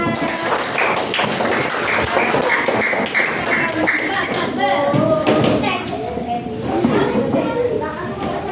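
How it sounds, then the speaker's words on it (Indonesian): A class of children claps together in a classroom, a busy mass of hand claps mixed with chatter and young voices, loud and close and lasting throughout. "Tepuk tangan untuk kita semua."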